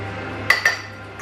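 Spoon stirring a cheese, milk and cayenne pepper mixture in a bowl before microwaving, two quick clinks against the bowl over a steady hum, no talk.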